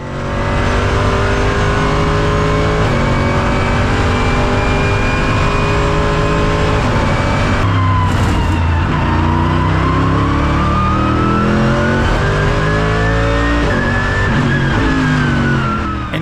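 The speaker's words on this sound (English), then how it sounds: "This is what it sounds like inside an ACC cockpit" Race car engine heard from inside the cockpit in the racing game Assetto Corsa Competizione: a loud, sustained engine drone whose pitch climbs and drops through gear changes and throttle shifts over several seconds, with no talking.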